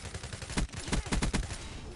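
Rapid automatic gunfire from a rifle in Call of Duty Black Ops 3, a quick burst of several sharp shots in close succession, fairly quiet and with no talking.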